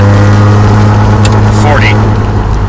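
Datsun 240Z engine droning steadily from inside the car in heavy traffic, a low continuous hum with a slight rise as it downshifts.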